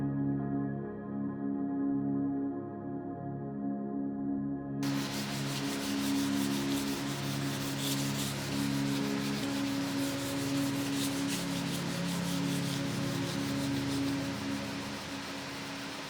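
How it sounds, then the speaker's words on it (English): Hand sanding a Damascus steel kukri blade with sandpaper up to 400 grit: steady, continuous close rubbing strokes, a soft hiss sustained throughout with no talking. "we have this finished ground and roughly hand sanded up to 400 grit"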